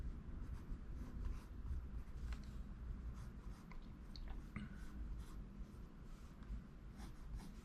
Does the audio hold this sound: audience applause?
no